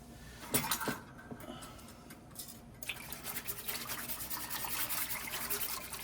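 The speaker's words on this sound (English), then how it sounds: "Whisk this all around." A whisk scrapes and swirls through beef stew in a pot, a close, quiet, steady scratching rhythm with a few clinks against the metal and no talking.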